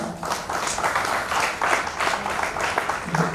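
A crowd at a school reunion celebration claps for the teachers, a short burst of dense, moderately loud applause.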